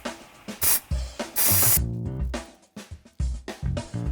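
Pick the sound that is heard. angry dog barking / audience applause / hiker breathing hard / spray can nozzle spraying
spray can nozzle spraying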